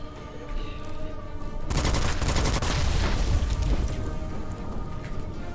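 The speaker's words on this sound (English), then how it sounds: "we blew up some exploding grass in the distance I didn't mean to explode" Exploding grass blowing up in Witchfire, a sudden burst of loud crackling detonations that erupts after quieter ambience and rumbles on for several seconds before tapering.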